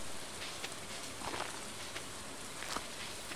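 Rain falls in Stardew Valley, a faint, even hiss of drops on the ground with a few slightly sharper patters, quiet and continuous with nothing else over it.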